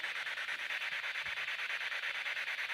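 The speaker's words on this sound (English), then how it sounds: "so it's sweeping through the frequencies, and supposedly, not as loud" A spirit box sweeps rapidly through radio frequencies, producing faint continuous hissing static with a steady rhythmic pulsing from the stepping, with no voices.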